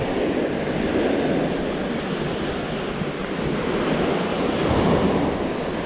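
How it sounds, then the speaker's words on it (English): Ocean waves at low tide wash onto a beach in a steady, continuous roar of surf with some wind buffeting the microphone, and the sound stays loud and even throughout. "with 3 hours of low tide, the waves are bigger than I expected"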